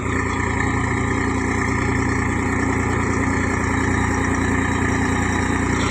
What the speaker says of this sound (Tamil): இது எங்கள் டிராக்டர் தாங்க. தம்பி உழவு ஓடிட்டுருக்கு.